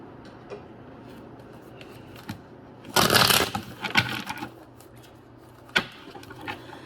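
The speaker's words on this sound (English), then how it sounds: "we're going to go ahead and shuffle up these cards" Tarot cards are shuffled close up in a quick burst of rapid riffling, surrounded by scattered soft taps and clicks against a quiet background.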